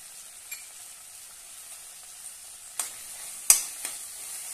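Coriander powder, turmeric, garam masala and salt sauté in oil for dhaba-style whole masoor dal, a faint, soft sizzle broken by a few sharp clicks of stirring near the end.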